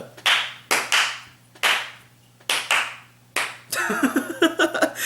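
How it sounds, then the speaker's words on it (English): A double-clap beat from Hyoyeon's song "Wannabe" sounds in sharp pairs of crisp claps repeating at an even tempo over a low hum, followed by a busier burst of music near the end. "that double clap kind of beat"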